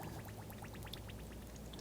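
DOT 3 or 4 brake fluid poured into the reservoir of a 2014-2020 Nissan Rogue, a steady close-up splashing trickle of liquid running unbroken, with no talking.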